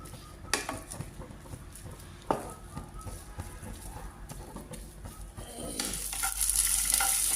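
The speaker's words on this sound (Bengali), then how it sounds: "কাজু, কিশমিশ, আলমন্ড ঘিতে ভাজা নিচ্ছি।" Cashews, raisins and almonds frying in ghee, loud close stirring scrapes and knocks over a sizzle that swells into a steady, bright hiss near the end.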